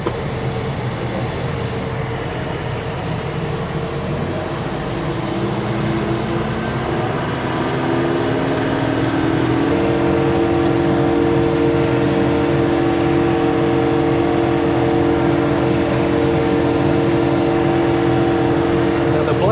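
John Deere 4066R tractor running a bush hog rotary mower with relatively dull blades while rough cutting a dove food plot; a steady loud engine drone with whining mower tones rising partway through, continuous and close.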